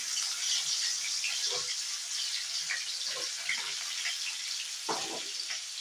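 Chopped green chilies frying in hot oil, a continuous bright hiss of sizzling that stays steady and fairly close, with a few soft bubbling pops rising now and then.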